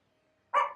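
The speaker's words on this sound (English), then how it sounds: "Why are you barking?" A single short, sharp dog bark rings out close by after a moment of near silence.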